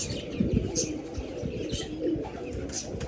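Pet pigeons coo and chirp close by in soft repeated calls, with brief fluttering and faint background voices.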